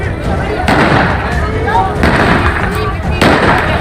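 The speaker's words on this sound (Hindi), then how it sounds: "इन्होंने दहशतगर्दी का मुजाहिरा किया है और हवाई फायरिंग कर रहे हैं।" Celebratory or intimidating shots fired into the air during a street clash between PPP and PTI workers, a few sharp cracks spaced about a second apart over a loud, steady outdoor crowd noise with people talking.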